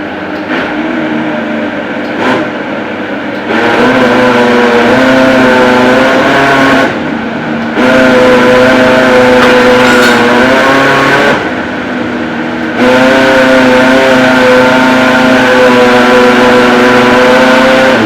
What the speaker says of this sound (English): Then take it down to the blender to smooth very well.